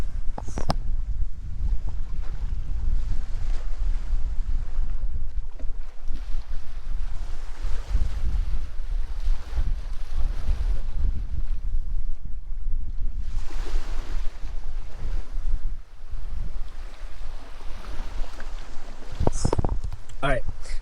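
Waves and strong wind on a beach at Koh Samui make a loud, rumbling roar with heavy gusts buffeting the microphone, continuous and near, with a short lull near the end.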